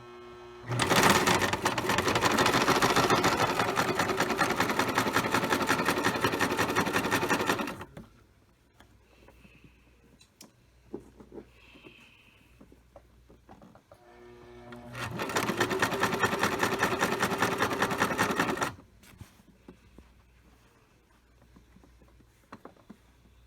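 Sewing machine stitching a quarter-inch seam around a faux-fur Christmas stocking, two loud steady whirring runs separated by a quieter pause with small handling clicks.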